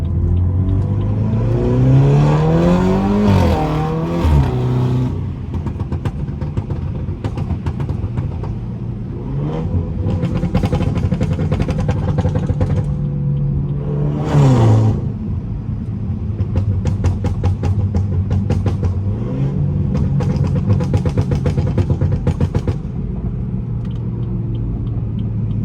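Stage 2 BMW 330i with its resonator removed, driven at night, revs hard with a deep, loud engine and exhaust roar that rises through the gears, with repeated swells, a sharp rev spike near the middle and a steady cruising drone after.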